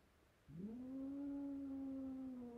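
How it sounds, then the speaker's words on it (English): An angry cat hiding under a chair lets out a single long, rising yowl that holds steady and close, sounding alone in a quiet room. "So now my cat is angry at me."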